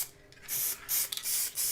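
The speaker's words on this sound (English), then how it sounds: "I'm going to try and get some spray glue down underneath" Spray glue hisses from an aerosol can onto a model railway scene in several short, close bursts separated by brief pauses.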